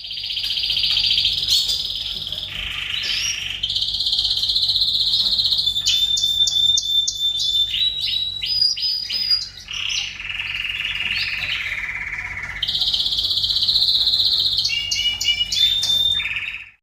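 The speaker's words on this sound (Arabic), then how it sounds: "طيب مثل ما سمعتوا انتو هذا المقطع من طير الكناري." Male canary singing alone and close, a loud, continuous song of bright trills and rapid chirping runs with brief pauses between phrases.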